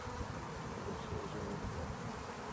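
Honeybees buzz in a dense, constant drone while a nucleus hive is transferred, the swarm close and steady without any letup.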